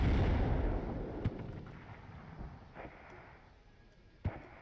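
Distant mortar fire in the WARNO wargame, an 81 mm mortar battery lobbing rounds, heard as a low battlefield rumble with a few sharp thumps standing out, one near the start and a louder one near the end.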